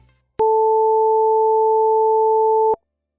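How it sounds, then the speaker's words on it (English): Two pure steady sine tones at 440 and 880 Hz sound together an octave apart, starting abruptly and holding for over two seconds before cutting off cleanly. "When you play these two A's an octave apart, at 440 and 880 Hz"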